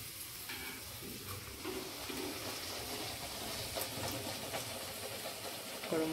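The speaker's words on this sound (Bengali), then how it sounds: "এবার গরম গরম কচুরি ভাজা চলছে।" Hot kachori deep-frying in oil for a Saraswati Puja dinner, a steady dense sizzle and hiss with a low rumbling background, continuous and fairly close, no talk over it.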